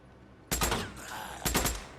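Two loud bursts of rapid gunfire hit a horde in Days Gone, the first lasting about half a second and the second coming after a short pause.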